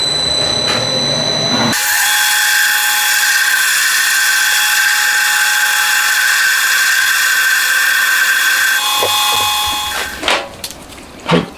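A lathe parts off a machined shaft piece for a crankshaft journal polishing tool, giving a loud, sustained high-pitched whine with ringing tones that stops abruptly and leaves a few clanks and knocks.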